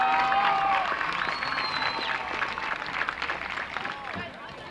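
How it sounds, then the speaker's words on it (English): A football game crowd at Burlington High School applauds the 2018 senior class. Sustained clapping and cheering fade gradually over several seconds, with voices audible in the mix. "can we have one final round of applause for your Burlington High School"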